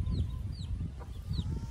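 Silkie hens cluck softly near their chicks on a farm, a few brief calls over a low rumbling background, moderately close and fairly quiet.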